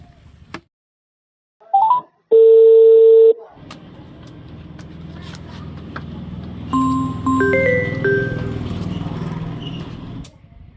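A mobile phone call is placed: a couple of short dialing beeps and then a steady electronic tone, followed by a low background hum with faint further tones.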